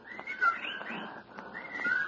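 Bird calls in a radio drama adaptation of a horror tale, a steady chorus of high whistling chirps and trills running continuously at moderate level for about two seconds, with no voices over them.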